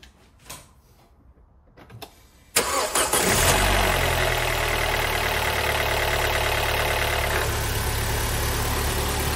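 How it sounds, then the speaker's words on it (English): An Audi A4 Avant engine is started after an oil change: a few faint clicks, then the starter cranks and the engine catches with a loud roar and settles into a steady close idle, with no talk. "So I'm gonna run the engine now, just a few seconds, and then switch it off."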